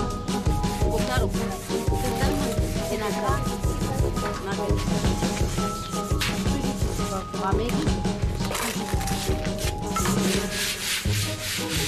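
A copper pot is scrubbed with sand to remove burnt residue underneath, giving steady, gritty rubbing and scraping strokes in an uneven rhythm, close and fairly loud throughout.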